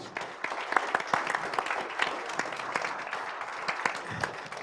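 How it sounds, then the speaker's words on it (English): Applause rises from the crowd at a satellite industry event hosted by Viasat, a steady patter of many hands at moderate distance, fairly quiet and continuous throughout. "let's please give a huge thank you round of applause"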